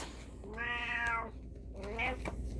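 A pet cat meows twice at close range indoors, a long drawn-out cry followed by a shorter one after a brief pause, with no talking and only a low background hum.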